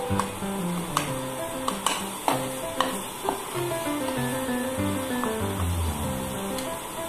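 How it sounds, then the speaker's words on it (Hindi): Onions frying in a pan for dum aloo give a steady close sizzle, broken by sharp clinks and scrapes of a spoon stirring against the pan, with no voices. "प्याज जो है आपका वो अच्छे से भूनना चाहिए जिससे कि इसका कच्चापन पूरी तरह से दूर हो जाए।"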